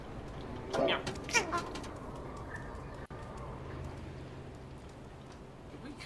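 Cat meows from the video game Stray, with a couple of short mewing calls near the start followed by quieter ambient game background.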